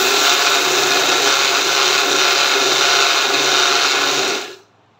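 A kitchen mixer grinder whirs loudly and steadily as it grinds sugar with a few cardamom pods, a continuous coarse high-pitched buzz that cuts off sharply near the end.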